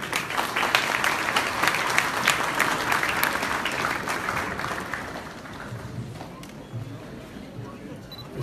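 Sustained audience applause fills a Houston Iftar dinner hall as Javaid Siddiqi is welcomed, loud and steady at first, then gradually thinning and fading out toward the end.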